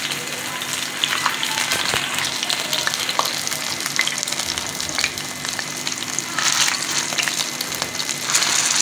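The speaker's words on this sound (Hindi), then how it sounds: "देखिए इस तरह चपले कबाब में तल लेने हैं।" Chapli kebabs, Peshawari minced-meat patties with tomato, sizzle and crackle steadily in hot oil, a close, dense frying hiss with scattered pops throughout and no talk.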